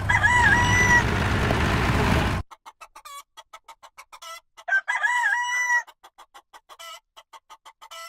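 A rooster crows loudly on a farm, one long cock-a-doodle-doo and then a second, with a quick run of short clucks between and after the calls.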